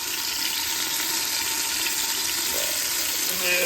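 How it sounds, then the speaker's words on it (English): Garlic frying in a pan on a cold day, a steady, fairly quiet hiss and sizzle that runs evenly throughout, with no talk. "Now we're just going to take and move that garlic around a little bit because we want to kind of fry the garlic"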